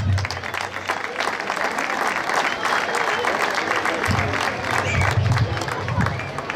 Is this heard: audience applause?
yes